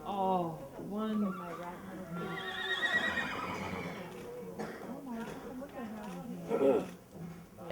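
Several horses neigh and whinny among a group of 33 rescued animals in Andrew County, Missouri, with hooves clip-clopping; calls rise and fall repeatedly under nearby talk.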